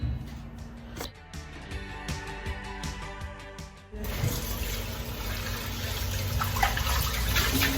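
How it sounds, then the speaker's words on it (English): Homemade vegetable broth poured out of a pot, a steady splashing, gurgling pour that swells louder partway through and keeps running to the end. "you remember the broth that we made, the vegetable broth? I'm just going to empty it there"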